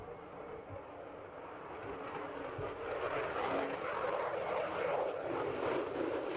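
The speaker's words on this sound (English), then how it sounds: "hopefully you can see the F-35s are banking around at Marham" F-35 fighter jets fly over RAF Marham, a distant broadband roar slowly swelling louder as they bank around.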